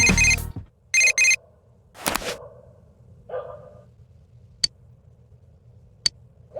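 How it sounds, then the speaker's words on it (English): An incoming phone call rings in the Persona 4 Golden video game: two short electronic ringing bursts near the start, followed by a few soft menu clicks and chimes over quiet background music. "We're gonna get a phone call first. Let's see who it is."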